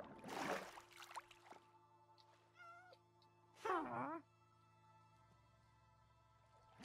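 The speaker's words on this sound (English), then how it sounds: "Is that a cat? Oh, it's a cat!" A cat meows a few times in Minecraft, rising and falling, amid soft ambient game sounds and a brief burst of noise at the start.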